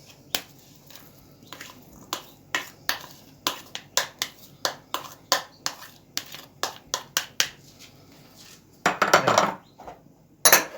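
Meat filling for stuffed peppers is worked in a bowl, producing a run of sharp, regular slaps and clinks at an even rhythm, then a burst of busier scraping and a final knock.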